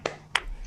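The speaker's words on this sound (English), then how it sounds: "My clap." Two sharp hand claps about a third of a second apart, close and crisp, in a quiet room.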